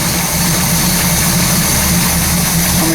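A 1969 Pontiac Firebird with a 400 HO V8 idles steadily while its ignition timing is being tuned, a loud, continuous low rumble with a constant engine hum and no voices.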